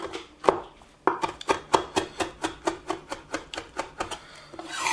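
A knife chops through food on a cutting board for pork chop with roasted vegetables, a quick steady run of about fifteen sharp, close knocks, no talking.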